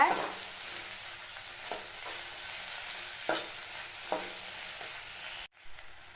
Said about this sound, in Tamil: வெண்டைக்காயை நல்லா வதக்கிட்டே இருங்க எண்ணெயில் அந்த வளவளப்பு தன்மை போகிற வரைக்கும் நல்லா வதக்குங்க